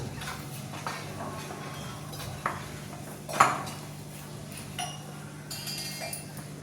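A spoon clinks lightly against a bowl while sabudana vada mixture, with coriander and salt, is mixed, giving scattered soft knocks and one louder clink under faint background hum.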